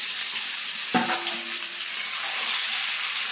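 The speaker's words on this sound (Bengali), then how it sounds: "এখন যে লবণ হলুদ মেখে রাখা আমগুলো কিন্তু দিয়ে দেবো" Mango pieces coated in salt and turmeric drop into hot oil tempered with five-spice, giving a sharp splash followed by a loud, steady sizzle of frying.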